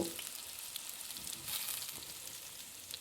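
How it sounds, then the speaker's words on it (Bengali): Eggplant frying in oil, a faint but continuous crackling sizzle with brief bursts of spatter, heard on its own without voices. "এরপর ভালো করে বেগুনটাকে ভেজে নেব"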